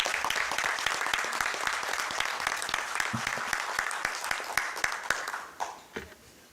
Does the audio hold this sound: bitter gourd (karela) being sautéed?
no